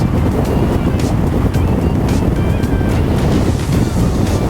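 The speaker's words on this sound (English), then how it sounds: "It is a windy day today too, so this is kind of putting it at its test" Steady, loud wind buffeting across a microphone on a moving Honda Rebel 500 ABS motorcycle on a windy day, a constant roar with no pauses and an underlying rumble throughout.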